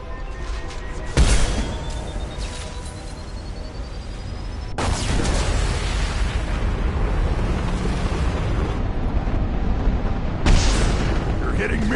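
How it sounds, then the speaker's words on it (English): Loud, rumbling blasts in the video game Mass Effect 2, with a sharp boom near the start and another midway that swells into a sustained roar, then a further burst near the end over dense combat noise. "Impending explosion."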